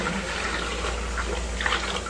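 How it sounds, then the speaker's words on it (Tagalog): Water runs steadily from a tap into a container before cleaning, a continuous close rushing splash that stays even throughout with no talking. "So, lagyan na muna natin ang tubig yan."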